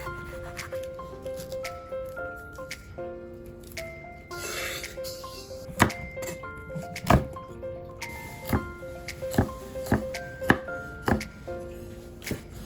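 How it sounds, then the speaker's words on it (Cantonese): A knife chops on a cutting board in a series of distinct thuds, growing more regular toward the end, over soft background music. "紅尖椒切粒"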